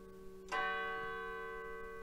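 A single church bell strikes once in a quiet small town at five in the evening, its bright metallic ring swelling sharply then fading slowly with a long, even hum beneath.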